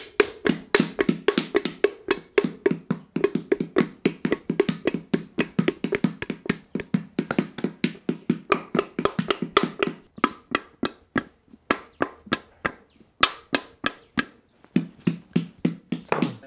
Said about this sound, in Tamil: இண்டைய காய வச்சுட்டு இந்த தட்டுக்கல் தட்டுறேன்